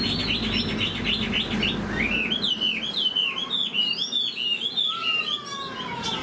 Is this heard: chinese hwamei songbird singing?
yes